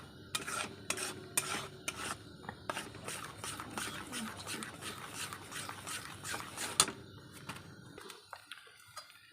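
Rice flour batter is stirred in a metal pot, giving a steady scraping, rasping rhythm of spoon strokes against the pan that continues close up and alone before stopping.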